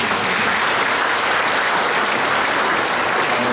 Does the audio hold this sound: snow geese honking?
no